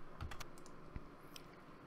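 A password is typed on a computer keyboard, a few faint, soft key taps in a quick cluster followed by a single later click, very quiet with no voices.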